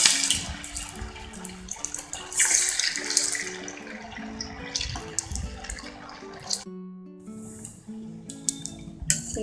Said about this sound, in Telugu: సో నూనె వేడెక్కాక లో ఫ్లేమ్లో అలా వేయించుకోవాలి నిదానంగా.